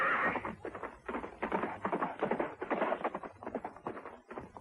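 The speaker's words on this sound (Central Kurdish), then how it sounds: "زۆر باشە ئەسپەکە ئێستا دەی ڕاکە دەی" A cartoon horse whinnies and then gallops, its neigh followed by a rapid series of rhythmic hoof beats. The sound is close and clear, with no talk over it.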